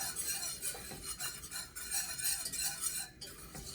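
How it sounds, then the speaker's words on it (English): A whisk rattles and scrapes quickly around a pot of roux for macaroni cheese, a soft continuous metallic stirring with brief clinks, close and alone. "We're going to whisk this quickly to help reduce any lumps."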